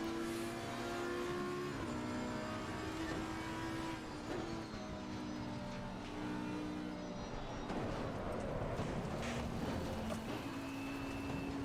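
Race cars in Assetto Corsa Competizione, including a BMW and a McLaren, drive in a close pack on track. The engines drone and whine steadily and loudly throughout, with pitch rising and falling as gears shift, and no talk.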